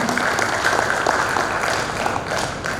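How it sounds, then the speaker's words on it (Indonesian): An audience at a Red Cross (PMI) board inauguration ceremony in Merauke applauds the regent, sustained dense clapping from a crowd filling the whole stretch at steady volume. "mari kita berikan aplaus untuk Bapak Bupati beserta jajarannya"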